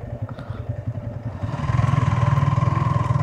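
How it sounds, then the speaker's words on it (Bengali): A motorbike stuck in sand on a riverside track near the India–Bangladesh border at Bichnakandi, Sylhet, its engine chugging steadily and then revving louder and harder about halfway through. "বালুতে মনে হয় খালেদ ভাইয়ের বাইক ওখানে আটকে গেছে"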